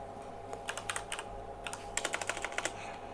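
Quiet typing on a computer keyboard at a desk, with bursts of rapid, light key clicks separated by short pauses over a faint steady hum.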